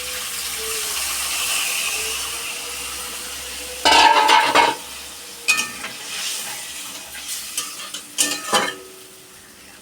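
Hilsa fish in mustard paste in a kadai: a steady sizzle, then loud bursts of stirring and scraping against the pan, close by and with no talking.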